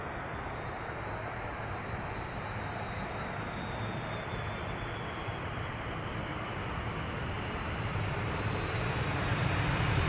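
A KLM Airbus A330 with both engines damaged by a bird strike comes in for an overweight landing at Amsterdam, a steady broadband jet roar heard from a distance that swells slightly louder near the end.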